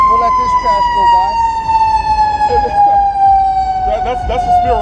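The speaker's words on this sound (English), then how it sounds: "You got people can hear the siren coming, but I'm still going to try to go across the street." Fire engine siren passing along a city street in Denver, a loud steady wail gliding slowly downward in pitch, with traffic rumble and scattered voices underneath.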